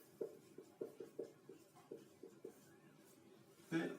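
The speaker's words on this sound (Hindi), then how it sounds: "और मैं लिख देता हूं शॉर्ट में" A teacher writes short notes during a Class 12 history lesson, producing a rapid series of faint scratchy strokes in an irregular rhythm, ending with a louder tap, in a quiet room.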